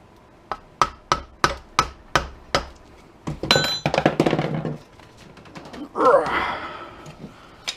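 Sharp metal taps on a circular fluorescent light ballast clamped in a vise, a run of about eight evenly spaced, loud close strikes followed by a rougher cluster of blows and a final scraping, grinding burst.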